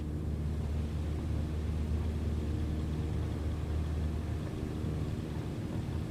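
Small airplane engine at full throttle on its takeoff roll in Microsoft Flight Simulator 2020, a steady broadband drone with low rumble, continuous and even.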